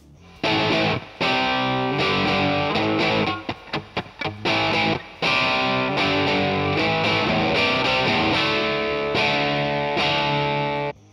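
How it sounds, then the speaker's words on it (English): Heavily distorted electric guitar through a Marshall amp emulation playing chords and riffs, loud and continuous, with a few brief choppy stops midway. "Here's the sound of a Marshall emulation."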